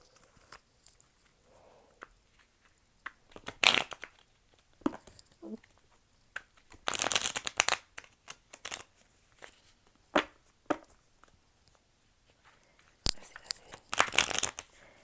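A new tarot card deck being shuffled by hand, in sparse bursts of crisp card riffling and rustling separated by quiet pauses, close by.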